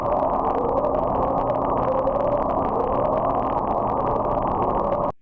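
The upsweep, a mysterious deep-sea sound recorded by the US Navy, comes through as a dense underwater rumble and hiss with faint, repeated rising tonal sweeps. It plays continuously for about five seconds with no voices.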